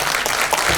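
A crowd at a song launch event applauds for a singer in a brief, loud burst of dense clapping, heard alone.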